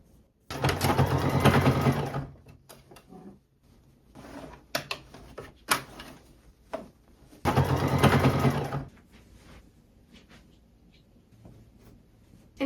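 Sewing machine stitching a thrifted ruffle skirt, running in two loud sustained bursts of rapid whirring, separated by quieter handling noises, clicks and fabric movement.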